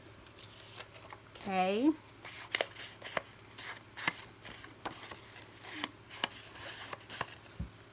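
Paper is trimmed down with cutting strokes during a craft embellishment project, a run of crisp snips and rustles close by, with a voice speaking over part of it.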